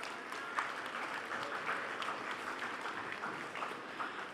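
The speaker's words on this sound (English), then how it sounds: "Let's give them a round of applause." Applause from the audience for graduates at the IIM Kozhikode convocation ceremony, a steady, fairly soft wash of clapping from a large hall crowd, continuous throughout with no cheering.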